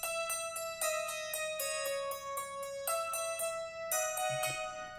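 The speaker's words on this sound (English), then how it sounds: "this autopan sounds really extreme by itself" A synthwave synth line plays repeated bright plucked notes that pulse and sweep in level as the autopan swings them from side to side, steady and moderately quiet with nothing else over it.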